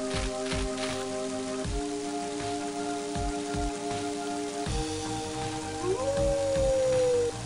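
Dog howl from the video game Mother 3, a single rising then gliding tone near the end, heard over steady game music and a rain-like hiss.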